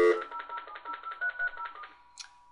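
A telephone speed-dials an access number, a rapid run of steady dial tones pulsing for about two seconds, followed by a brief higher chirp, with no talking.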